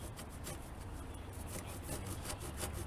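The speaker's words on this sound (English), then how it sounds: "Cutting across the grain of the wood, which is why it's called a crosscut saw" A crosscut saw cuts across the grain of wood in quick, regular rasping strokes, fairly faint and steady, with no talk.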